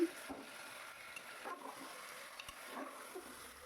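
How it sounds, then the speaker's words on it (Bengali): Mutton pieces are stirred with golden brown fried onions in a pan, producing a faint steady sizzle with soft scrapes and occasional light clinks of the spoon, with no voices. "খাসির মাংসগুলো দিয়ে দেওয়া হলো ওপর নিচ সুন্দর করে নাড়িয়ে চাড়িয়ে নেওয়া হচ্ছে"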